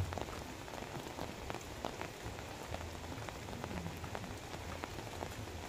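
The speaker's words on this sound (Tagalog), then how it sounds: "Habang umuulan." Steady rain falls continuously, a dense patter of drops hitting surfaces with occasional sharper splashes, soft and even throughout.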